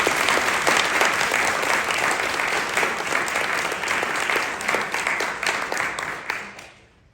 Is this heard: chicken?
no